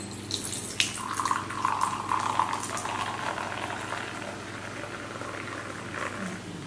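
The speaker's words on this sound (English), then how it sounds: "Alright, so let's pour it out." Kickapoo Joy Juice citrus soda poured from a can into a glass, a continuous close fizzing, splashing stream with no talk.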